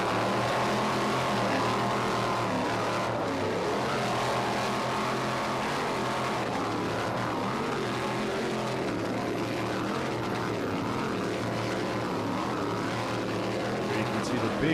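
A 35-foot Cigarette offshore powerboat with MDG inboard engines races through rough swells off Ocean City, Maryland, its engines a steady, loud, continuous roar that holds without a break.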